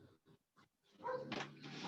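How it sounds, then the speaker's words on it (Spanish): A dog barks a few quick times, faint and close to a microphone, followed by a louder burst of noisy yelping. "¿Alguien tiene un perro?"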